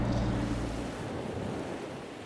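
Bay of Bengal surf washes ashore beside the seaside Vallipura Alvar temple at Thunnalai, Vadamarachchi, Jaffna, as a continuous, moderately loud roar of breaking waves mixed with wind, with no voices.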